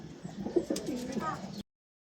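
A racing pigeon just returned from a derby race coos softly and closely in a loft, a short burbling call that stops abruptly.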